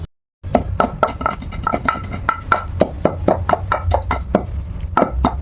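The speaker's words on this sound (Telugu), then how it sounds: "మనం ముందు ఎండుమిర్చి దంచేసుకోవాలమ్మా" A pestle pounds dried red chillies in a stone mortar, making close, loud, rhythmic thuds that repeat steadily after a brief silence at the start.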